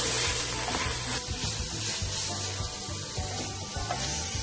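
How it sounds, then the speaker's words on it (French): Onions sizzling in oil in a pan for a stuffed pumpkin dish, a steady bright crackling fry, close and fairly loud, with low kitchen rumbles underneath and no talk. "Pour faire revenir les oignons, on ajoute un peu d'huile."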